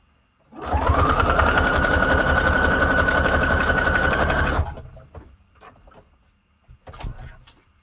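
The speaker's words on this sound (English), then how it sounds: "We're putting a zigzag stitch. All around here." A sewing machine runs a zigzag stitch around a paper junk journal tag, a loud, steady mechanical whir lasting about four seconds before stopping abruptly, followed by faint handling noises.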